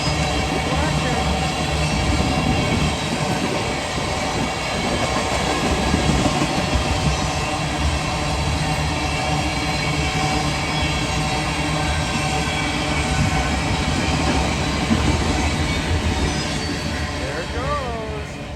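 A loud freight train rumbles steadily past at close range, its wheels clattering on the rails with occasional squeals; a voice can be heard under the noise.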